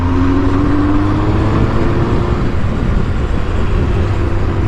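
A 1997 Triumph Speed Triple T509 motorcycle engine runs nearby with a loud, steady low hum and a slight rise in pitch, holding an even idle-like drone throughout.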